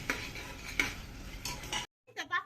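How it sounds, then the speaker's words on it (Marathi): A spoon scrapes and clinks through ginger garlic paste and vegetables for veg pulao in a metal pan, a close, quiet run of stirring strokes that stops briefly before a few more soft scrapes. "याच्यामध्ये एक चमचा म्हणजे अर्धा चमचा आलं लसूण पेस्ट टाकायची आहे छानपैकी मिक्स करून घेते आहे"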